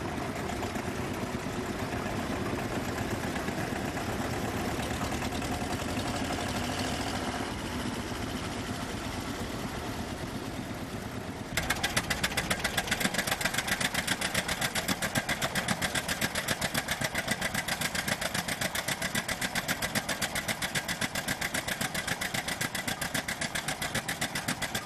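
A 1966 International B450 Roadless tractor engine idles with a steady, close, loud diesel chug that grows harder and more rapid partway through, with no voices over it.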